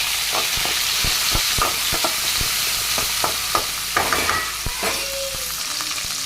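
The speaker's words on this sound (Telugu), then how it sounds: "టమాటాలు వేసుకొని మగ్గనిద్దామండి కాసేపు." Tomatoes, onion and green chillies frying in a pan for wheat rava upma, giving a continuous close sizzle with regular sharp taps and scrapes of a stirring spoon, no talking.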